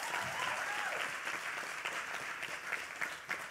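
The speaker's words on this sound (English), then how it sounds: "Round of applause" Applause from a studio audience at a talent competition show, a steady wash of many hands clapping close by for the full stretch, with a few sharper claps standing out near the end.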